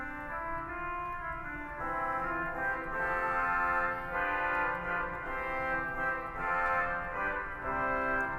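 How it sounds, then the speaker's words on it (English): A Waldhorn reed stop on a huge 121-rank pipe organ holds full, sustained chords that shift slowly, fairly loud and steady, with no talking. "We've got a Waldhorn."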